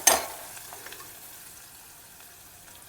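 Sliced onions fry in hot oil while being stirred, a faint, steady sizzle with a brief louder scrape at the start and soft stirring clatter throughout.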